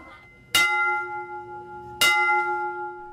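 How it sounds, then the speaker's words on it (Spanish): Church bells ring to call Catholics to mass in Cambodia, two loud clanging strikes about one and a half seconds apart, each leaving a long, sustained ringing hum that carries between them. "Las campanadas llaman a misa"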